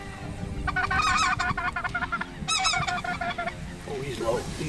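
Speckle-belly geese calling during a hunt, a flock of honking, yelping calls in rapid bursts, loud and fairly near, with a pause and a second burst, over a rough outdoor wind-like background.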